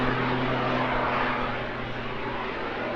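Small jet aircraft at the English Riviera Airshow give off a steady, broad roar of engine noise that holds at an even level throughout. No voices are heard over it.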